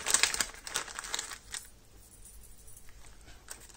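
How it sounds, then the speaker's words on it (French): A small packet holding Christmas earrings being opened, quiet crinkling and rustling of the wrapping in a close burst, then fading to faint intermittent crackles. "Alors, on commence par ce petit paquet. Alors, ça fait un petit peu du bruit."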